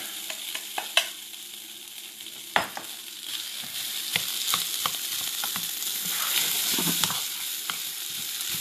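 Rice for fried rice sizzles and fries steadily in a hot pan, with a bright continuous crackle and occasional sharp scrapes and stirring knocks from a utensil, close and fairly loud with no talking.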